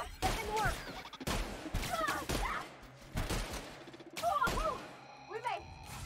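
A shotgun in a video game fires several booming blasts at irregular intervals, with a player talking between and over the shots.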